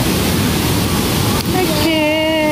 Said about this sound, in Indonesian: Kita di pinggir sungai banget dan ini adalah tenda kita.